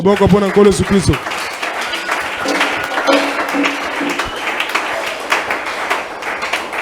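A church congregation applauds in praise, a dense, sustained burst of clapping that swells right after a brief voice and continues loudly to the end.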